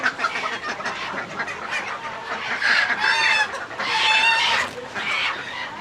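Desi chickens and roosters at a busy night market, clucking and squawking close by in repeated short bursts, with several higher rising calls overlapping over a noisy crowd backdrop.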